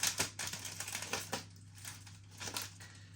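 Cellophane wrapping on a pack of Alf Turner pork and real ale sausages crinkles and crackles close by, in a run of sharp rustling bursts that thin out toward the end, with no talking.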